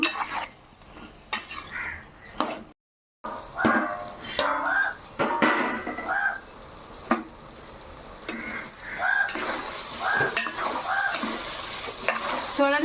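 A dried fish and brinjal curry being stirred in a pan after salt goes in, with repeated close scraping strokes over a steady sizzle and one brief silent break.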